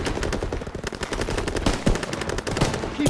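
Machine guns firing in Call of Duty WWII: dense, continuous automatic fire from several weapons at once, loud and steady throughout, with faint battle noise mixed underneath.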